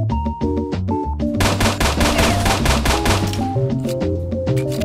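An automatic weapon fires in a first-person shooter game. Loud, rapid bursts of gunfire sound up close over a pulsing electronic music track, with short pauses between volleys.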